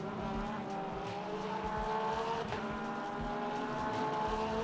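A hypercar racing in the Le Mans Ultimate sim at Interlagos, its engine droning at a high, steady pitch as it passes, heard as continuous game audio at a moderate level.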